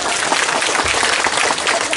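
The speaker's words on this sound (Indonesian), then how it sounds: "Tepuk tangan dulu dong buat Banser." An audience at a Ramadan religious lecture claps for Pak Banser, a brief burst of dense, continuous applause with no voices over it.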